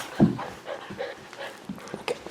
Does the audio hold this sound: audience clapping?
no